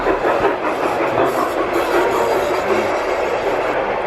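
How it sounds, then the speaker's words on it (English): A model garden railway train on about 800 feet of outdoor track runs steadily with a continuous rumbling clatter and faint hiss, close by and moderately loud, with no talking. "There's the train again, and the Biltmore replica."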